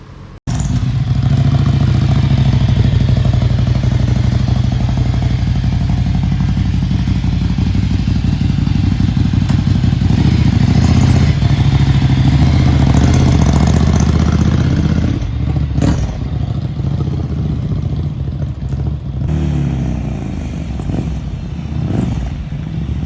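A Ducati Monster motorcycle fitted with an HP Corse exhaust runs close by, a loud, deep, continuous engine rumble that holds steady for about twenty seconds with slight swells, alone without talk.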